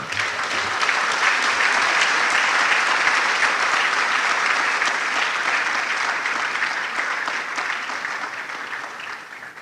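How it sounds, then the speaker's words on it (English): A large audience at a university e-learning week event at KNUST claps continuously for several seconds, loud and even throughout. "help me with a very large round of applause, Mr. Daniel Fahin Akwe."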